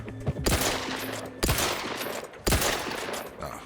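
Gunfire in The Outer Worlds 2 video game, with three sharp bursts about a second apart, each fading into a noisy tail, heard fairly close with no talking.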